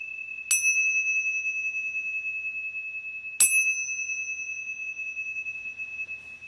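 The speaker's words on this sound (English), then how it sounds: "I'm going to ring the bell." Two clear, bright bell strikes a few seconds apart, each ringing out with a long, sustained metallic tone that slowly fades.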